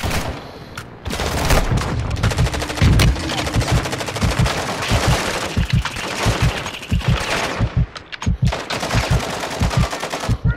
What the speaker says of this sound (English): There's a lot of guys right there! And they're shooting at us really good!